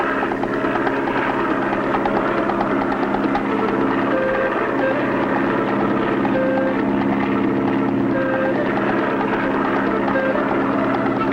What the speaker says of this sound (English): an old German World War I plane dives out of the volcanic mist